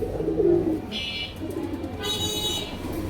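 Soft, low pigeon cooing close by, a few throaty rolling coos, with faint higher background chirps and noise.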